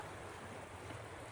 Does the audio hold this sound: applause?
no